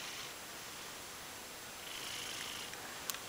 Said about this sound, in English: Listen carefully, hear him snorting and purring.